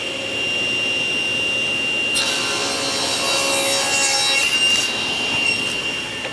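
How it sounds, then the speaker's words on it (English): A saw cuts a miter on the end of a wood test piece guided by a miter gauge. A low running hum gives way to a loud, harsh cut lasting about three seconds before it fades. "I'm just going to start mitering one end of each one"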